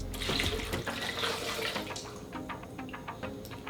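Water pours into a blender jar in a brief splashing stream that tapers off into a few drips.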